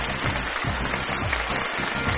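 A studio audience on a Chinese television reading talk show claps steadily to welcome a guest onstage, a dense, even burst of applause lasting about two seconds with no voices over it.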